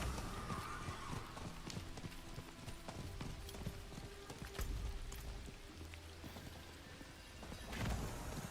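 Horse hooves clip-clop in Diablo 4, a quick, fairly faint rhythmic patter over a busy game background.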